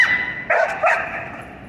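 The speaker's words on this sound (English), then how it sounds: "Dogs barking at the train." Dogs bark at a passing Metro-North commuter train: two sharp, loud barks close together, set over a steady mechanical drone from the train.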